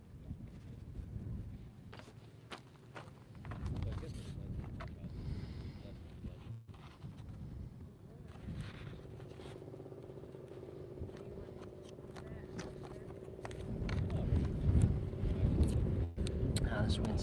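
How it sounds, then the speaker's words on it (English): Wind buffets a microphone outdoors while a school-bus conversion is being stencil-painted, a steady low rumbling roar that swells into heavier gusts toward the end, with no clear talk over it. "This wind sucks."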